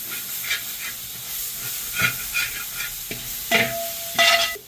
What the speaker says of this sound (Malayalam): ഞാൻ നന്നായിട്ടൊന്ന് ഇളക്കി ഒഴിച്ച് കൊടുക്കാം